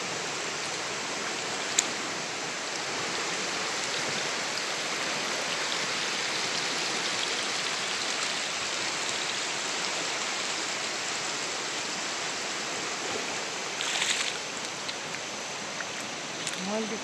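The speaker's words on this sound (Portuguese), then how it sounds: "a água tá por cima da ponte do Rio da Prata" Floodwater of the Rio da Prata rushes over a bridge, a steady loud broadband roar that fills the whole stretch, with a voice briefly audible near the end.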